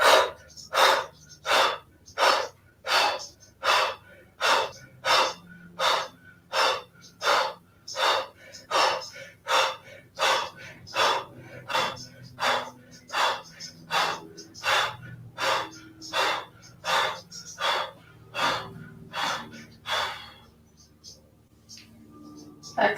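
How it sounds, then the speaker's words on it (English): Kapalabhati yoga breathing, a rapid series of about twenty-five sharp forced exhales through the nose in steady rhythm, close and loud, ending in quiet near the close. "Take a round of Kalabate, fast breath, inhale nose,"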